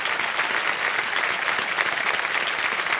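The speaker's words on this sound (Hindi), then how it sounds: "तालियां बज जाए इनके लिए एक बार फिर।" Steady, dense applause from a television quiz show's studio audience, loud and continuous throughout with no break, no voices over it.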